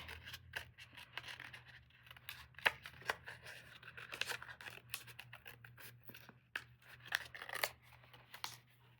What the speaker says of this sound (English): This is what's referred to as fussy cutting